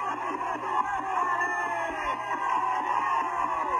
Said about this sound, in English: They're cheering it on.